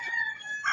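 Short burst of a fighting cock crowing, a bright tonal call lasting under a second, fairly close and clear with no talking over it.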